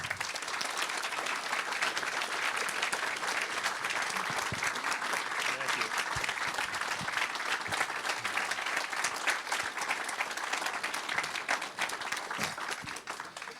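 Sustained audience applause at The Liberty Forum welcoming speaker Matt Palumbo, a dense even roar of clapping from a crowd in a hall, loud and continuous before tapering slightly at the end.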